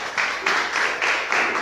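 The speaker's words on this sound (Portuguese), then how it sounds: "Seja o servo de Deus com palmas para Jesus." Church congregation clapping during a worship service, a dense wash of handclaps rising and falling in several loud swells with no voices over it.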